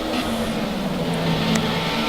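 A Formula Renault 3.5 race car at full throttle on the Hockenheim circuit, its engine holding a loud, steady high-pitched drone that swells slightly as it accelerates past.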